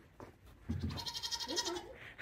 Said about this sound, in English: Oh, there's the goaties.